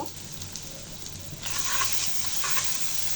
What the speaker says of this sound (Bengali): লবণ, হলুদ, শুকনো মরিচের গুঁড়া দিয়ে ভালো করে কষিয়ে নিব